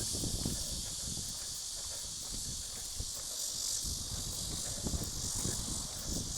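Dense, continuous high-pitched buzzing of cicadas in Jeju in late summer fills the air without pause, with some low rustling and handling noise underneath.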